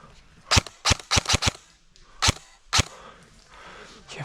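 Airsoft guns fire in a milsim game in the woods, with a quick burst of five sharp cracking shots followed by two more separate shots, close and loud, then quieter rustling.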